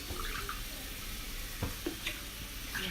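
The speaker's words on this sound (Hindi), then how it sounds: "अब ये 3 गुना पानी डालेंगे। 1 कटोरी बेसन तो 3 कटोरी पानी।" Water poured into roasted gram flour and sugar in a pan for besan halwa gives a steady splashing, bubbling hiss with a few sharp sizzles and splatters, close and moderately loud.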